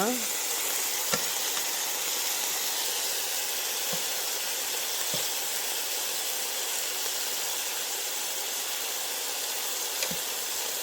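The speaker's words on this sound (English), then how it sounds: "Alright, so let that sear." Pork searing in a hot pot for a Puerto Rican stew, a strong, steady hiss and sizzle lasting throughout, with a few faint taps and clinks from the pot, close and continuous.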